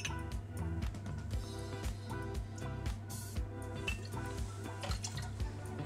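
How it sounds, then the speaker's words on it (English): White grape juice and then gin are poured for a cocktail, giving soft, close dripping and trickling liquid sounds in a steady rhythm at low volume, with no voices. "So I've gone for 25ml of white grape juice, followed by 30ml of gin."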